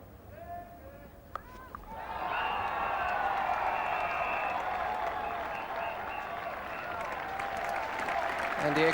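Cricket spectators at Lord's during a 1984 England v West Indies Test break into applause for a batsman's fifty, the distant crowd swelling after a couple of seconds and holding steady, with a commentator's voice briefly heard early on.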